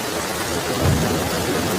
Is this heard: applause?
no